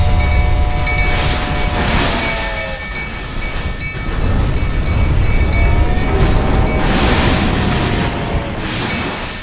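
A train rumbles loudly along the tracks with grinding wheel noise and a sustained horn-like tone rising and fading over the rumble.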